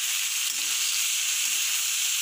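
Potato pieces frying in oil in a pan for aloo bhaja give a steady, close, loud sizzling hiss with no pauses and no talk.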